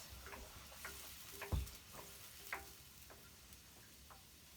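Butter melting into a honey glaze in a frying pan gives a soft sizzle, broken by a few light scrapes and taps of stirring, quiet and close.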